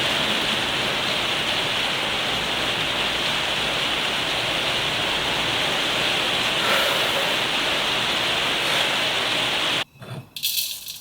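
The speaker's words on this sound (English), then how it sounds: "the rain thing sounds so good" Steady broadband rain hiss, loud and close, holding unbroken for about ten seconds before cutting off abruptly into a few quieter rustling sounds.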